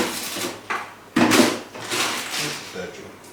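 A drawer slides open and shut with a few quick wooden knocks and scrapes, one louder thud standing out, while people talk over it.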